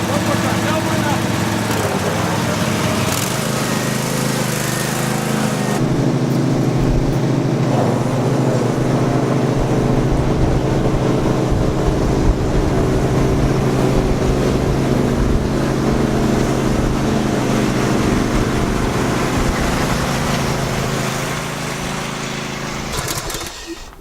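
A ride-on zero-turn mower drives flat out at top speed, its engine a loud, steady, close drone with a rough mechanical roar that holds for over twenty seconds and then fades out.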